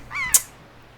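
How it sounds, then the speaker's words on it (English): A single short, nasal seagull cry from The Legend of Zelda: The Wind Waker, a rising squawk ending in a sharp bright click, close and clear with near silence after. "And it lets a seagull eat it, and now I can take control of the seagull."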